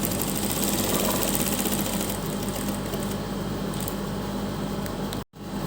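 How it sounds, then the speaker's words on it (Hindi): A sewing machine stitching around the neckline of a kurti runs as a steady, close, whirring rattle for several seconds, then stops abruptly near the end. "अपने नेक के साथ इस तरह से सिलाई को घुमा देंगे"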